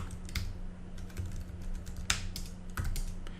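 Light, quick keystrokes on a computer keyboard as a command is typed at a terminal, a soft irregular clatter with a few sharper taps, quiet and alone with no talk.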